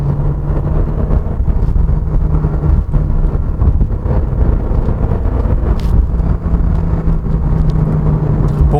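A 2021 Porsche 718 Boxster GTS 4.0 drives in Sport Plus mode, its engine a steady, loud, continuous drone mixed with road and wind rush, no speech over it.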